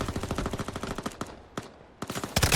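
MP5 and AK rifles fire in a futuristic free-to-play shooter game: rapid automatic bursts of crisp, punchy shots, a brief lull with a single shot, then more fast bursts, loud and with no talking.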